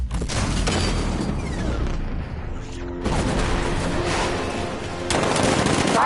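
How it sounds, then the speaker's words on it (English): A 60mm cannon fires in a Batman video game, rapid heavy bursts of automatic gunfire with booming impacts, loud and continuous, breaking briefly before resuming. "60mm cannon operational."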